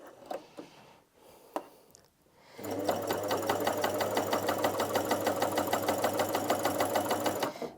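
A Janome CoverPro 3000 coverstitch machine stitches along a scrap piece of fabric, starting after a few quiet handling knocks, then running steadily for about five seconds with a fast, even mechanical whir and ticking rhythm, close and clear.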